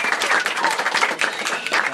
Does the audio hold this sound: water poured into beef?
no